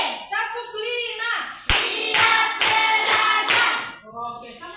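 Children in an Indonesian classroom clap together in a counted routine, with a run of loud, evenly spaced group claps framed by chanting voices at the start and end.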